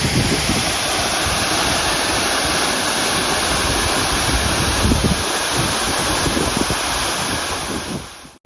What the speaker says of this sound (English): Here we are, Mount Carmel's waterfall hike